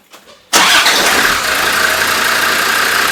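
A Land Rover diesel engine catches after a short crank and starts right away, jumping to a loud, rough clatter that settles into a steady idle close to the microphone.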